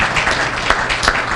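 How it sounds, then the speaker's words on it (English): An audience at a public event at National Harbor applauds for a local official, a dense and fairly loud wash of many hands clapping that swells a little but never stops. "Can we give him a round of applause?"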